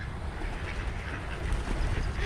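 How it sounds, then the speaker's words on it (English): Ducks at a wild bird feeding spot in Shakopee, Minnesota quack in a busy, overlapping chorus, mixed with outdoor wind and ambient noise. "Look at these birds."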